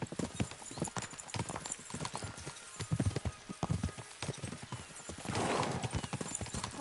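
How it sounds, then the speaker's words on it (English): Horses clip-clop at a gallop in Kingdom Come Deliverance 2, the dense hoofbeats loud and close throughout, with a whinny and brief voices over the running. "We should spur the horses on!"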